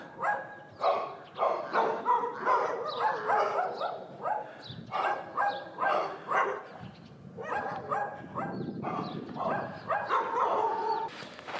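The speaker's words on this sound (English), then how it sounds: "we got welcomed by the neighborhood dogs" Neighborhood dogs barking at sunrise in Luderitz, Namibia: repeated, fairly close barks in quick bursts from several dogs, some overlapping, with a few yips and pauses between volleys.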